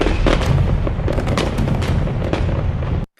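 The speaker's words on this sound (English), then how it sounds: "if that's not worth fireworks, nothing is" Fireworks sound effect with a dense run of booming bursts and crackling pops, loud and continuous for about three seconds before cutting off abruptly.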